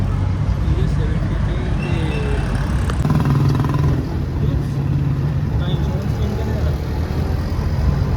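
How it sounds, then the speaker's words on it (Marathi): A ride in an auto rickshaw through busy traffic, with a steady loud engine drone and road noise throughout and voices talking over it. "आता रिक्षात बसलो आहे"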